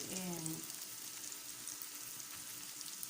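Eggs fry in a pan for shakshuka with a steady, close sizzle and crackle throughout, and a brief tonal sound at the start.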